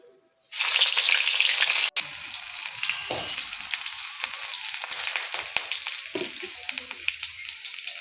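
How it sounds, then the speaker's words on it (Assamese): Onion dropped into hot oil bursts into a loud sizzle, then settles into a steady crackling fry close by with occasional stirring clinks, no talking. "তেলখিনি গৰম হৈ লওক, পিঁয়াজ দি তৰকাৰীখন বনাই দিম।"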